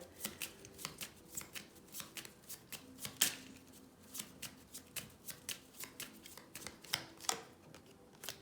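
A deck of oracle cards is shuffled by hand, giving a long run of quick riffling snaps in an uneven rhythm, close and fairly quiet, with no talking.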